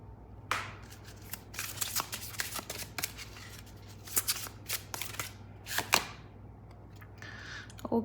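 Tarot cards are shuffled by hand in quick, irregular bursts of crisp riffling and flicking, close and fairly quiet over a low steady hum.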